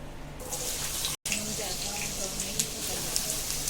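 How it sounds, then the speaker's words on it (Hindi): Chopped onions go into hot oil and ghee in a pan and give a steady, loud, hissing sizzle that lasts throughout. There is a brief cut partway through. "तेल और घी हमारा गर्म हो गया है। अब इसमें हम कांदा डालेंगे।"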